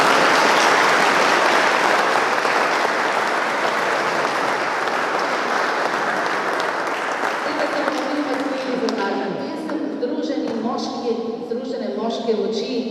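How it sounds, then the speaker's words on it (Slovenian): Audience applause at a museum exhibition opening in Brežice, sustained loud clapping from a crowd that gradually thins and fades as voices and talk rise toward the end. "prosim en aplavz za moje muzejske sodelavce"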